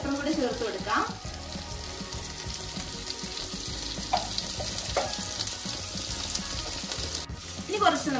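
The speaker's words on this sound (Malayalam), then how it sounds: "ഇങ്ങനെ ജസ്റ്റ് ഒന്ന് ഫ്രൈ ചെയ്ത് എടുക്കുന്നതായിരിക്കും നല്ല കേട്ടോ" Beef steak frying in a pan, a steady crackling sizzle held throughout with a few louder spits and scrapes near the start and end, no voices.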